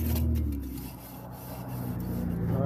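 Hand tools scraping old rust and flakes off the brake hub of a 1999–2006 Chevy Silverado, a steady close rasping rub that swells and eases over a couple of seconds with no talking.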